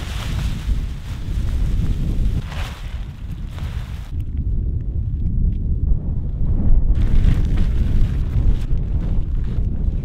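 Strong desert wind buffets the microphone in continuous low rumbling gusts, loud and close, with no voices.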